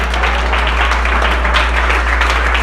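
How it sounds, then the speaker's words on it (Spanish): Church congregation applauding during a Sunday morning Spanish-language sermon, a dense, loud, continuous wash of clapping from a large crowd over a low steady hum. "¿Alguien da un aplauso a Cristo en esta mañana?"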